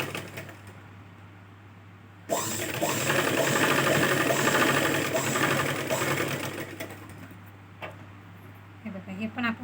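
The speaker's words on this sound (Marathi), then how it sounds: "आता ही शिलाई आपण अशी मारायची" A sewing machine stitches a blouse lining in one long, loud, steady whirring run that starts abruptly and tapers off, with quieter handling sounds before and after.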